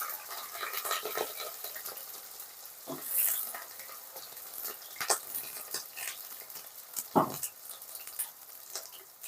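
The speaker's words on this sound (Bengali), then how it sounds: "এবার আমরা কেটে রাখা আলুটাকে ভেজে নেব" Cut potatoes fry in hot mustard oil in a kadai, giving a quiet, irregular sizzle punctuated by scattered sharp clicks and scrapes of a spatula, close and faint with no talking.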